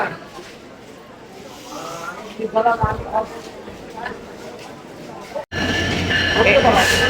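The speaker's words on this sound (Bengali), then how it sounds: "এই যে বিনাপুল এক্সপ্রেস চলে এলো" The Benapole Express pulls into Rajbari station in Bangladesh with a low, rolling rumble under nearby talk, then a sudden loud, close roar as the carriages reach the platform.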